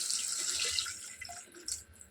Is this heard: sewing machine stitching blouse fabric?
no